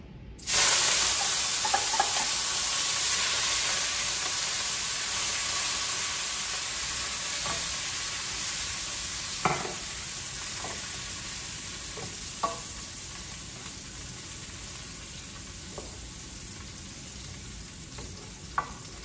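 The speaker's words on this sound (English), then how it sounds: "I use a lot of olive oil in this because that's what I need instead of butter. And I like it to get really hot before I put my garlic and my basil in" Garlic and basil frying in very hot olive oil give a loud, steady sizzle and hiss that begins abruptly, with occasional sharp crackles and pops over about nineteen seconds and no voices.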